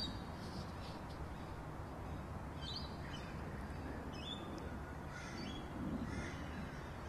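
Several birds call intermittently at a distance, short harsh cries over a steady outdoor background hiss.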